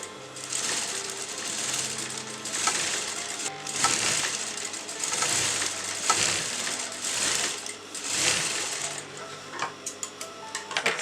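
A sewing machine stitches kurta fabric in a rapid, rattling run of needle strikes that surges and eases over several seconds, loud and close, with a few brief pauses and clicks.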